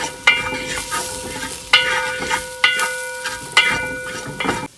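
Spices and onion stirred in a frying pan for a Kerala-style chicken roast, with a soft steady sizzle broken by four or five sharp scraping clinks of the spoon against the pan at regular intervals, close and unaccompanied by talk.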